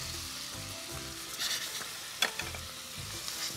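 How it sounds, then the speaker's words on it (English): Sliced mushrooms, olives and roasted garlic sauté in a pan with a steady close sizzle and frying crackle, plus a few soft stirring scrapes and one sharp utensil tap. "And you're gonna let that saute? And let it simmer for a few minutes."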